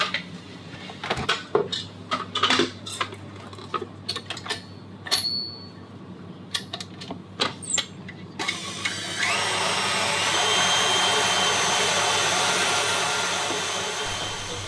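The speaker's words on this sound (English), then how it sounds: "So I'm gonna put it in my KitchenAid" A KitchenAid stand mixer whipping raspberry brownie batter: first scattered clinks and clatter of the bowl and attachment being set up, then the motor starts and runs as a steady, loud whirring drone until the end.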